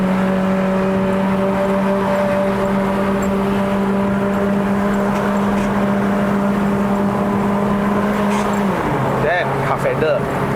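A 2008 Toyota Corolla Altis 1.8E (E140) pulls uphill on the Genting road in Malaysia with a steady, close cabin engine drone that drops in pitch at a gear change near the end, while a person talks throughout.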